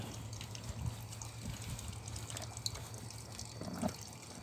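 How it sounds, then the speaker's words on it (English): Cold water sprays and drips outdoors near a porch and the side of a house on a warm day, a steady hiss with scattered drips and faint background hum, no talking. "Just sprayed cold water on it."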